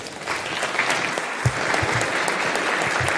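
A hall audience at a union's 33rd anniversary plenary session applauds loudly and continuously, a dense, steady wash of clapping throughout.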